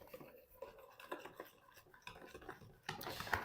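Flour paste for a fruit cake being stirred in a bowl, giving quiet repeated scraping and clicking strokes of a utensil against the bowl, growing a little louder near the end.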